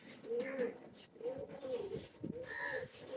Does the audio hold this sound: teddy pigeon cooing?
yes